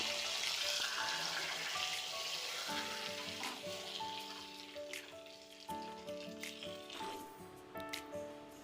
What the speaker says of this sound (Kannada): ಇದಕ್ಕೆ ಒಗ್ಗರಣೆಯನ್ನು ಹಾಕ್ಕೊಳ್ತಾ ಇದ್ದೀನಿ